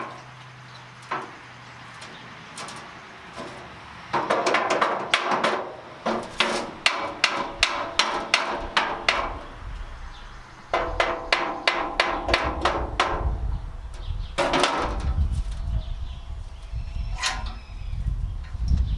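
Hammer tapping steel angles into position while forming a steel wheelbarrow planter bin: bursts of quick, sharp metallic knocks in rapid runs with short pauses, loud and close, no talking.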